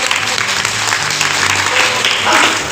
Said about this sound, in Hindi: एक बार आप लोग जोरदार ताली